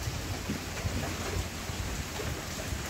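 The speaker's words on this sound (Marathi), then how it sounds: "पाऊस बघा किती इथं धबधबे लागले अख्खे" Heavy rain on a trek near waterfalls, a loud, even wash of falling water with dense patter throughout and no speech.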